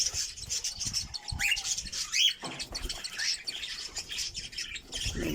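Cockatiels at a bird farm feeding chicks, with a few sharp chirps and squawks over soft rustling and shuffling movement, close and fairly quiet, with no talk.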